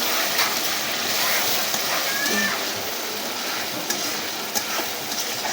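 Fat and chopped vegetables stir-frying with spices in a pan, a steady, dense hiss throughout with faint scraping.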